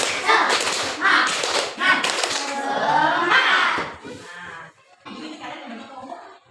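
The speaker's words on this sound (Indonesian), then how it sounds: "Tepuk semangat." Schoolchildren in an elementary classroom chant the tepuk semangat routine, clapping in quick rhythmic groups while their voices chant along loudly and close by.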